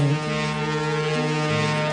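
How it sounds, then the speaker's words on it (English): A boat horn sounds as a long, steady, low tonal blast that holds at an even level for about two seconds with no talking over it. "As her legs are wide open, you hear the sound of a boat."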